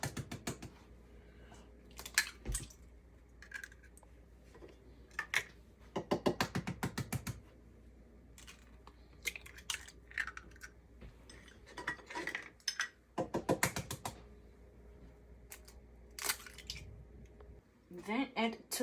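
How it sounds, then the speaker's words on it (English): Six large room-temperature eggs cracked into a large bowl for a chocolate berry yogurt mousse cake: a series of sharp shell taps and wet drips, separated by pauses, fairly close. "In a large bowl, add and crack 6 large eggs at room temperature."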